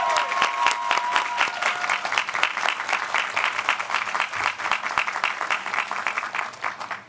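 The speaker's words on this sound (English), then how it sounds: "Let's give them all a big round of applause" A large audience applauds at Harvard Law School Class Day, dense steady clapping filling the hall for the whole stretch, loud and continuous with a faint voice or tone briefly audible near the start.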